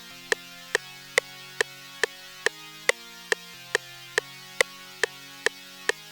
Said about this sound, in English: Then I layered it with the super saw, which is gonna sound like this.